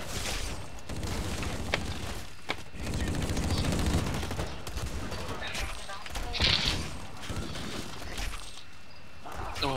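Gunfire in the shooter game Blacklight Retribution, bursts of rapid shots and booms scattered throughout, mixed with game noise while a player talks over it.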